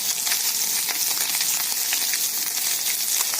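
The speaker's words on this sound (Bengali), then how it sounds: "এক পিট লাল হয়ে ভাজা হয়ে গেলে আরেক পিটটাকে লাল করে ভেজে নিতে হবে" Mourola fish browning in hot oil in a pan make a continuous close crackling sizzle, bright and busy with frequent small pops and no pauses, and no voices are heard.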